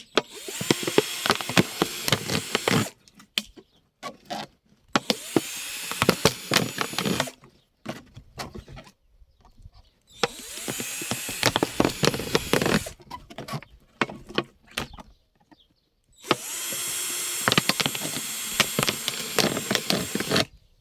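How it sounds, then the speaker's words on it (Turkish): A drill bores holes around a plastic PET bottle for an underground irrigation setup, four loud close whirring bursts separated by short quiet pauses. "Şişe çevresine 4 tane delik vereceğiz."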